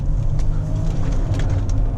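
A 2018 Audi Q8 50TDI diesel pulling hard out of a corner, heard from inside as a steady, loud low engine drone with faint road and wind noise over it.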